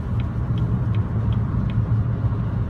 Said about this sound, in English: Currently I'm driving a 2014 Chevy Impala